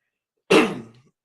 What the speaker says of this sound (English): trying to get over a mild cough here